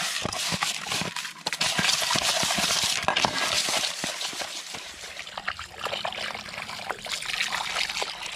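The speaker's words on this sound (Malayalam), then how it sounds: "നമ്മുടെ കരിമീൻ നന്നായിട്ട് കഴുകി വൃത്തിയാക്കി വരഞ്ഞു വെച്ചിട്ടുണ്ട്" Pearl spot fish (karimeen) being washed with water in a kitchen: trickling, splashing water mixed with wet handling and light knocks, close by and continuous, with no talking.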